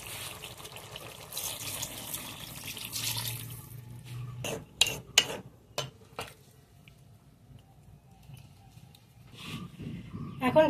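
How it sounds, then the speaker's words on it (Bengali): Water poured into a simmering chana dal and pointed gourd curry, a gushing splash in the first few seconds, then quieter clinks of utensils. "আরো কিছুটা পানি দেব।"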